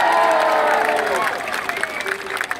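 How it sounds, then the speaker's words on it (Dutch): Crowd at the Ajax open day cheers and applauds the team captain, a dense mix of clapping and raised voices with some shouting that gradually eases over a few seconds. "Geef hem nog even een lekker applaus, Matthijs de Leer!"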